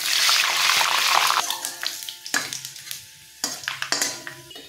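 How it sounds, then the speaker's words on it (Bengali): Cinnamon, cardamom, cloves, dried red chillies and bay leaves hit hot oil for tempering, a loud burst of sizzling that fades into crackling and stirring scrapes in the pan, with no speech. "দারচিনি, এলাচ, লবঙ্গ, শুকনো লঙ্কা, তেজপাতা আমি ফোড়নে দিয়ে দিচ্ছি।"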